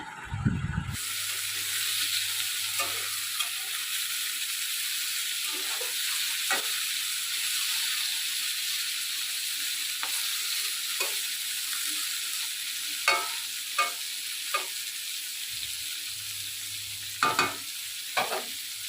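Snake gourd and shrimp frying in a pan, a continuous loud sizzle broken by repeated sharp scrapes and clacks of a spatula stirring, clustered toward the end.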